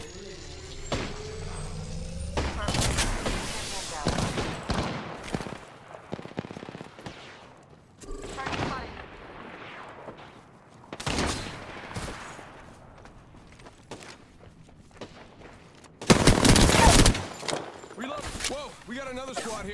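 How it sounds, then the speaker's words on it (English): Sporadic gunfire in a shooter game, scattered shots and short bursts at varying loudness with one heavy, loud burst near the end, while a player talks throughout. "Shots fired, and they're hitting me."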